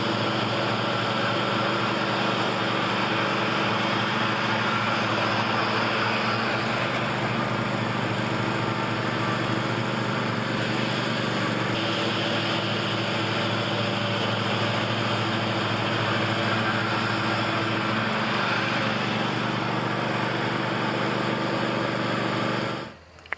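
An Ultima ZT2 zero-turn lawn mower cuts grass with a steady, droning engine hum that holds close and constant for over twenty seconds, then cuts off abruptly at the end.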